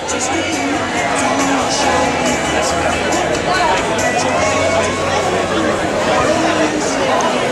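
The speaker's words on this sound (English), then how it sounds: "our crowd is starting to build" A crowd gathering outdoors for the dedication of a new town clock in Ellicott City, Maryland, makes a dense, steady babble of many overlapping voices nearby, with occasional footsteps and clatter.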